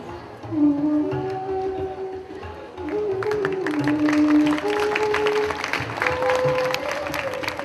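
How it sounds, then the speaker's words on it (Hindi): An audience claps to welcome a guest being honoured with a flower garland, steady crowd applause building and holding for several seconds over sustained musical tones. "तालियों में कंजूसी ना कर रहे प्लीज, जोरदार तालियों से स्वागत कीजिए।"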